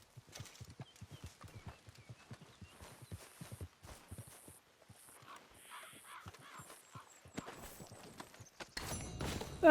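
Horse hooves clip-clop in Red Dead Redemption 2, a rhythmic string of close, crisp hoofbeats on hard ground with occasional snorts and game ambience, ending in a louder burst of noise.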